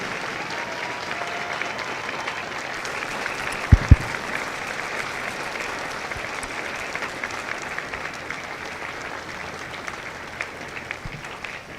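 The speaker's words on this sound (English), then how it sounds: "Ladies and gentlemen, a round of applause for their dedicated service to Corps and country." Sustained applause from a large audience at a Marine Corps recruit graduation ceremony at MCRD San Diego, a steady dense clapping texture with a couple of sharp louder claps near the start, no talking.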